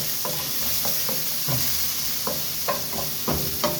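Ginger sizzles in a pan of hot oil while being cooked for chicken curry, a steady close hiss broken by sharp scraping clicks as it is stirred, with no voices.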